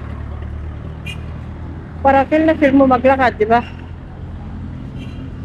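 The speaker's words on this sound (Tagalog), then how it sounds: "tunog ng mga sasakyan na mga dumadaan" Traffic of passing vehicles and tricycles rumbles steadily on a street, with a person talking briefly over the constant road noise.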